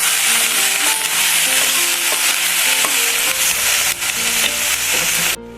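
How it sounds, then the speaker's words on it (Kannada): Okra frying in a pan for chutney, a continuous loud sizzle with repeated scraping and clinking as a utensil stirs it, close up and with no talk. "ಎಲ್ಲ ಇದರಲ್ಲೇ ಫ್ರೈ ಆಗಬೇಕು."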